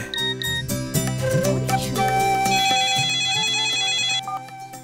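A mobile phone ringtone plays loudly and close up, a bright melodic tune of repeating electronic notes that runs for about four seconds before stopping.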